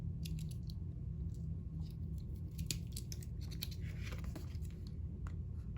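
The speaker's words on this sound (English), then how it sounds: "Let's use the scissors." Scissors snip and crunch through a metal coffee can being cut to make a pinhole camera. Irregular, close, scratchy cuts run over a low steady hum, with no talking.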